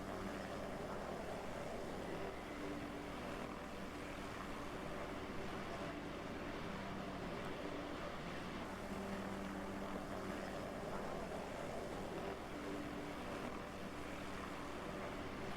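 A police helicopter in the video game DayZ drones steadily overhead, a constant low rotor and engine hum with faint tonal whine, distant and even throughout, no talking.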